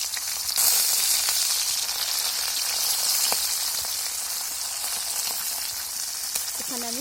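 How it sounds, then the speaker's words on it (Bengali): Fish, four to a batch, fry in very hot mustard oil in a wok, giving a loud, close, continuous sizzling hiss with scattered crackles and a brief faint voice at the end. "এখন আমি মাছগুলো দিয়ে ভেজে নেব।"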